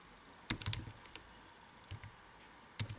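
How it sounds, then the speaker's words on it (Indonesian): Typing on a computer keyboard while working in MATLAB: a few quiet, close bursts of key clicks separated by pauses. "kita ketik polyval"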